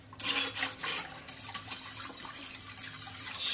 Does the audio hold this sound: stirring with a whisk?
yes